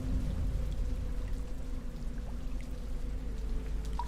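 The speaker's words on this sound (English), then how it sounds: "It's about to rain." Rain falling in the game Rain World, a soft, steady patter and wash of water with a low rumbling bed, faint and continuous without any voices.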